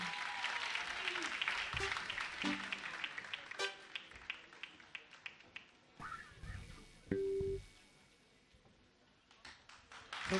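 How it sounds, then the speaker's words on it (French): Scattered audience applause at a televised talent show, loud at first and thinning out, with individual claps, a brief electronic beep, and a few louder claps returning at the end. "On vous demande maintenant d'applaudir José."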